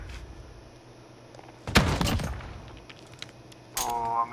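A frag grenade or flashbang goes off in a competitive shooter match, a single sharp burst followed by a short noisy tail, with another bright crack near the end over quiet game ambience.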